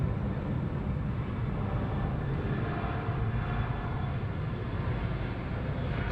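A Qantas airliner at Bangkok airport produces a continuous, heavy engine roar that holds steady and loud, with no one talking.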